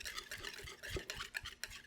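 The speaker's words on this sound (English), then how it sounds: "Just add in a little bit. And we're gonna whisk it up." A cilantro and hot sauce dip being whisked in a bowl, giving quiet, fairly steady scraping and clinking strokes close by, with no talking.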